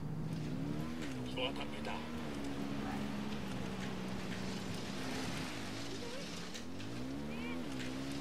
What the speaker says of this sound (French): On va faire un petit tour de moto.